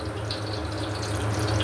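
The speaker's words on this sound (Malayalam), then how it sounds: "പിന്നെ നെയ്യ് ഒഴിക്കുക" Ghee pours into a large pot for Kozhikodan chicken fry dum biryani, giving a steady, close, continuous liquid stream that runs without a break.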